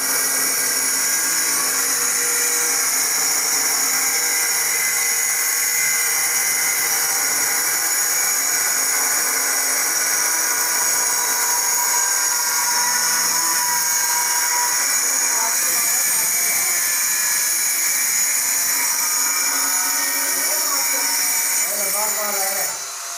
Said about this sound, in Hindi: ये मिस्त्री साहब ग्राइंडर से जो है ना पत्थर की पीस की कटाई कर रहे थे